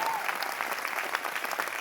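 A seated audience at a leadership development program in Delhi claps steadily together, a dense, even wash of many hands that stays loud and unbroken throughout.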